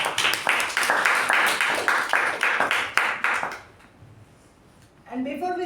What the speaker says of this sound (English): A big round of applause to Toastmaster Shreya.